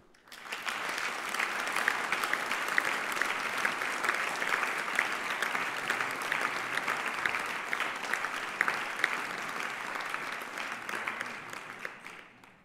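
A concert audience at an autumn brass band performance applauds steadily for about twelve seconds, a dense even wash of clapping that starts and fades at the ends.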